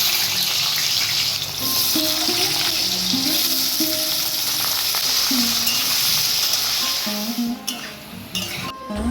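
Young jackfruit and potatoes fry in a hot wok with a steady, close sizzle, broken by stirring scrapes and clatter throughout before easing slightly near the end; faint tonal sounds sit in the background.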